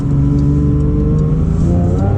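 A Porsche 992 GT3 with its naturally aspirated 4-liter flat-six engine revs loudly and continuously, a dense, steady mechanical roar with rising harmonics heard close up and without any talking.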